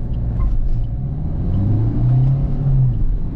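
Engines rumble and rise as cars accelerate in a drag race, a Maruti Dzire 1.3 diesel automatic against a Hyundai i20 1.2 petrol, a close, loud, low drone that swells midway.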